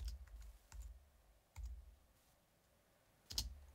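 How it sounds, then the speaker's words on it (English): Three separate computer keyboard keys are pressed one after another, each a sharp, close click with a low thump, spaced over several seconds with quiet in between. "I'll press three keys in succession"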